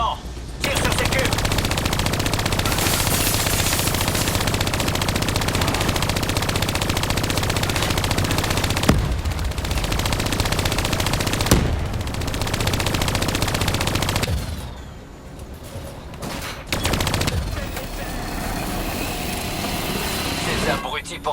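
Sustained automatic gunfire in Call of Duty Black Ops III, aimed at cubes, rattles in long loud bursts broken by short pauses, with a voice speaking over parts of it.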